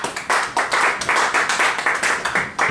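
A small comedy club crowd claps steadily for the comedian Drew, dense rhythmic hand claps filling the room without cheering or voices.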